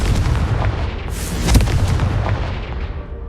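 A Confringo spell bursts into a booming explosion in the Hogwarts Legacy video game, a loud sharp blast amid dense rumbling and crackling game noise, with no talking over it.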